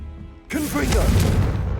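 Confringo fire spell blast in the Hogwarts Legacy video game, a sudden explosive burst that erupts after a brief quiet moment and rumbles on with a loud, rolling low-end tail.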